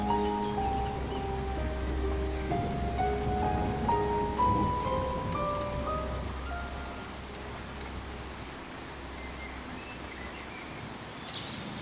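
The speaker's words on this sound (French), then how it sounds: "Il pleut toujours à Ferrière-sur-Beaulieu." Steady rain falls in Ferrière-sur-Beaulieu, a continuous soft hiss that holds evenly throughout, with a melodic tonal layer over it early on that fades after the first half.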